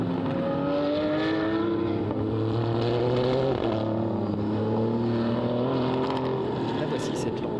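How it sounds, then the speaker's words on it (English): Lamborghini race car driving at Magny-Cours circuit, a steady droning engine whose pitch shifts as it changes gear, heard loud and continuous under commentary. "La voici, cette Lamborghini de Fabio Malerba, la numéro 25"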